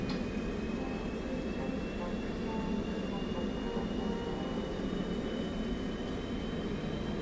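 An F/A-18 Hornet jet engine spins up during a video game start sequence: a steady, dense turbine roar with a thin whine that slowly climbs in pitch throughout.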